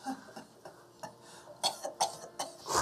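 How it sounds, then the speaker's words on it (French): A few faint, soft coughs and short throat-clearing sounds come in quick, uneven bursts against a quiet background. "Il se met à tousser un petit peu."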